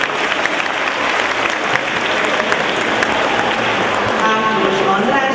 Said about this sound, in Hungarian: köszöntsék őket nagy tapssal